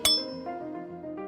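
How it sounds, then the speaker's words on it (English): A single sharp metallic-sounding strike on a ringing rock with a hammer, followed by a clear ringing tone that decays over about a second. A faint second tap comes near the end. "If you strike these rocks with a heavy object, like a hammer or another rock, the stones will make a ringing sound"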